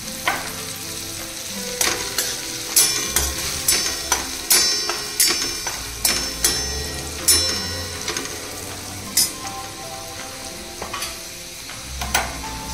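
Green peas sautéed with turmeric and coriander powder for Khandeshi methi vatana, a soft constant sizzle broken by sharp, regular clicks and taps of a spoon striking the pan, close up and without speech.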